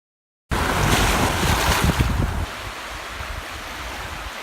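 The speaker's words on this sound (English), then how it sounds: "Camping right on the shores of Lake Huron and listening to the waves at night." Waves washing onto the shore of Lake Huron with wind rushing across the microphone, starting after a brief silence, a loud blustery surge that eases to a quieter steady wash partway through.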